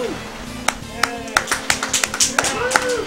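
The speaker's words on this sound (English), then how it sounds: "the good luck clap was like just as good as that" A quick run of sharp hand claps for good luck during a Wave Race 64 speedrun, set against the game's music and sound effects, the claps distinct and close.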